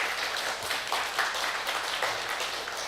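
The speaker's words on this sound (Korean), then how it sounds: "우리 크게 박수." A church congregation applauds during an evening revival service, a soft, steady patter of many hands clapping at moderate distance, with no talking over it.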